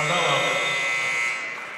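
Buzzer at a school wrestling match, a loud, steady electronic blare sounding for over a second and then fading, with crowd noise and voices behind it.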